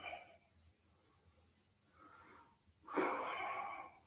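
An audible exhale during a guided yoga breathing exercise: a soft breath near 2 s, then a stronger, airy outward breath from about 3 s to the end, close and unaccompanied by talk.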